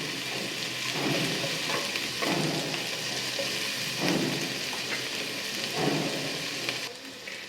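Onions fry in hot oil for an egg and masoor dal bhuna, a steady close sizzle with periodic swells of stirring roughly every second or two, then quieter near the end.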